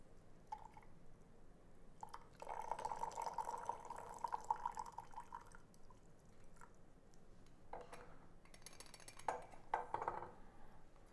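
Boiled water poured over aged ripe pu-erh tea from a 2000 7562 recipe brick for a quick rinse, a faint close trickle and drip of liquid with soft splashes, quiet throughout.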